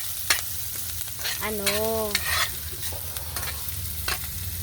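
Garlic and onion sizzle and crackle steadily in a hot pan while being stirred, with a scraping utensil and a brief whistling tone, while cooking chicken adobo in coconut milk.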